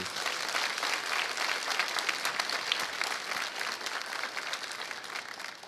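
A church congregation claps during a sermon, dense and continuous applause of many hands held at an even level throughout, fairly distant with no voices rising above it.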